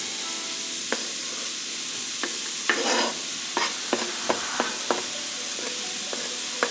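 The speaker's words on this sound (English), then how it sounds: "I'm just going to let it saute for about 5 minutes." Carrots, jalapeño and orange pepper sauté in a pot, a steady broad sizzle with scattered clicks and scrapes of a utensil stirring through, close and moderately loud with no voices.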